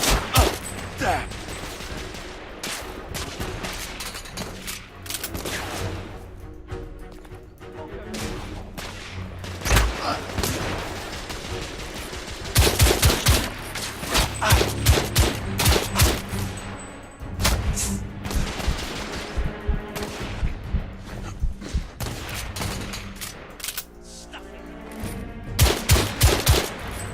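Heavy gunfire from The Order: 1886 in bursts and volleys, with loud rapid shots, booms and machine-gun rattles layered over game music and effects, and a voice speaking briefly at points.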